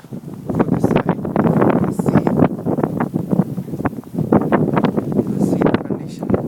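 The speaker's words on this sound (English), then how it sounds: "The snow wind is so bad that your ears, it goes deep into the ears, deep into your mind" Strong snowy wind buffets loudly in rough, pulsing gusts close by, roaring across the microphone in snow-covered surroundings, with no voices.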